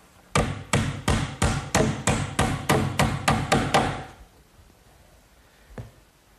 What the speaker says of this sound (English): I'll just secure that with some finish nails, 6-penny finish nails.